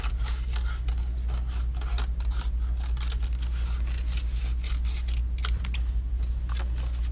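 Scissors snipping through paper to cut out a ghost shape for a Halloween pumpkin art project, a steady run of close, crisp cuts and rustles with no talking.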